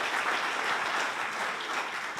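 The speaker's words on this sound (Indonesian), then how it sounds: "beri tepuk tangan dulu buat Tuhan Yesus" Church congregation clapping together at a GBI Sunday service in Batam, a dense, steady wash of applause filling the whole stretch without a break.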